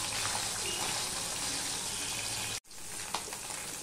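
Bata fish fry in hot oil in a pan, giving a steady loud sizzle that cuts out briefly, then resumes with a few soft clatters.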